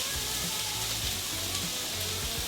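Chopped onions fry in hot avocado oil in a pan, giving a dense, even hiss and crackle that holds steady and close throughout, with faint low tones underneath and no voice.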